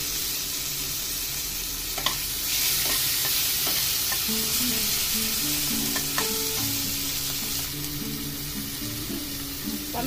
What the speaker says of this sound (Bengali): টমেটোগুলো মিনিট তিনেক ভেজে নিলাম, বেশ নরম হয়ে গেছে